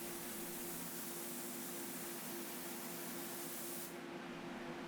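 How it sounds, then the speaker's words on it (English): Spray gun laying a finish coat onto an Art Deco waterfall dresser, a steady close hiss of atomized spray running continuously with a low tonal hum beneath, cutting off near the end. "I sprayed 2 passes on each side."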